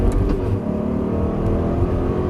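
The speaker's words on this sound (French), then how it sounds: "vas-y accélère" A car engine accelerates during a driving lesson on a practice track, a loud, continuous revving drone heard from inside the car with no talk over it.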